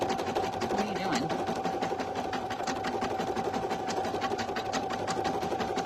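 A single-needle embroidery machine stitches in a fast continuous rattle, close and steady, with a faint voice briefly underneath.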